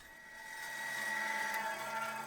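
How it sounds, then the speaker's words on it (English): A bandsaw cuts a rectangle out of a piece of scrap wood, a faint, steady whine with a humming motor tone that rises slightly as the blade bites. "Move over to the bandsaw and cut the rectangle out."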